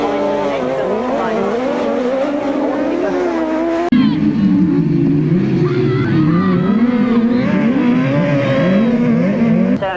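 Motorcycles race on a 1999 grasstrack, engines roaring loud and continuous with shifting revs as riders push into the last lap, while a commentator talks over the noise.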